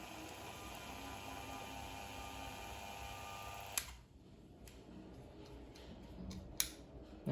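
An IBELL random orbital sander runs at its lowest speed with a steady, close, even whir for about four seconds, then cuts off, leaving near-quiet with a few scattered light clicks.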